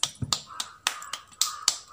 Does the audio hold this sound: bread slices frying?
no